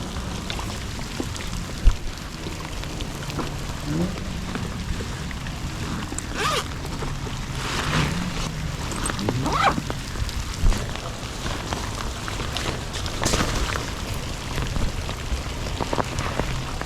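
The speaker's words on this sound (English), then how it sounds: "It's raining, all right." Rain falls outdoors on the bank of a lake during a late-summer bass fishing outing, a steady, diffuse patter with scattered louder drops and faint background rustling, no voices.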